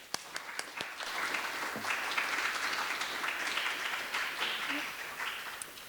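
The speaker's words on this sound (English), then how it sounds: "So give her a big round of applause." Lecture-hall audience gives the poet Jehanne Dubrow a steady round of applause, dense clapping sustained for several seconds at moderate distance after a few scattered early claps.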